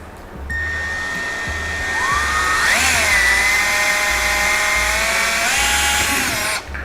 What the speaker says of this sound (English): We're going to start with a 1/8 inch drill bit.